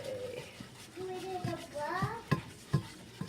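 A spoon scrapes and stirs a roux in a pan, with soft scraping and a couple of sharp knocks against the pan, mostly under close talking, including a voice.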